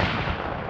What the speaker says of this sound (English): including a 120-millimeter cannon underway and mounted machine guns